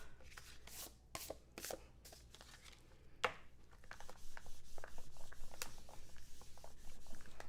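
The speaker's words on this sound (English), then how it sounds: "You can just take your finger and rub it and get all that little bit of excess tape off" A fingertip rubs leftover temporary tape off a handmade autumn card panel, making a run of short, dry scratchy strokes close up. A few sharper ticks come early, then quicker steady rubbing follows.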